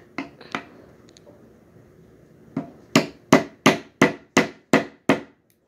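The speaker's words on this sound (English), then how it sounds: "Be careful not to hit your hand with that hammer." A hammer strikes a fresh coconut shell: a few scattered knocks, a pause, then seven loud, sharp, evenly spaced blows close by with no talk.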